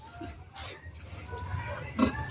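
Pigs on a farm hit by swine fever give a few short, close grunts and oinks over low background noise.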